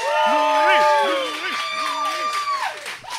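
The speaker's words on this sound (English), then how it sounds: "Everybody, big round of applause for Luis." A live comedy audience in Austin cheers with whoops and rising shouts and some clapping throughout.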